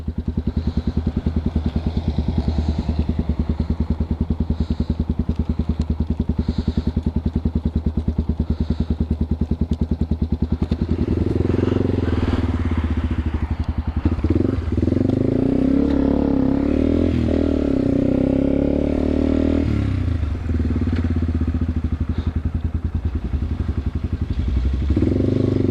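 A Yamaha TW200 motorcycle with a new battery idles and putters through a Dunkin drive-through, its engine steady and close, then revving and clattering louder midway as the rider pulls forward; no speech.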